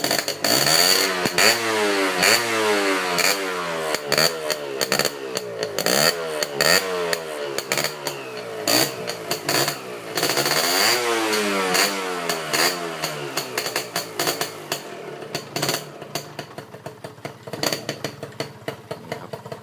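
A Honda motorcycle (Thai-market 'S' model) with a split-cut exhaust tip revs repeatedly and loudly, sharp rising throttle blips over a rough idle, close up, with no talking.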